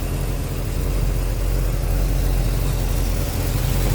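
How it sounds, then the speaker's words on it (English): An electric cooling fan runs on a 1961 Chevrolet Corvette convertible, a loud, steady whirring rumble close at hand with no pauses, blended with the idling engine. "Electric fan."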